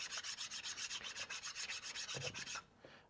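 A brake pad from a BMW is scraped back and forth across a surface to scuff it, giving a steady run of about fourteen rhythmic, close rasping strokes that then stop.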